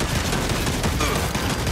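Dense, loud burst of gunfire from a firefight in the video game Gears 5 on Xbox One, a continuous roaring fusillade filling the short moment with no talking.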